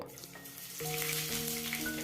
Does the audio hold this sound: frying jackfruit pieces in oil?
yes